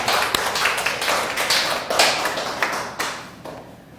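A Korean church congregation at a Sunday worship service applauds, giving a steady run of sharp claps that fade toward the end.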